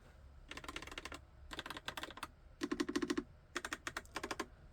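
Typing on a pink YUNZII QL75 typewriter-style mechanical keyboard with round keycaps, smooth switches: close, crisp clicky keystroke bursts in four rapid runs with short pauses between, no voices.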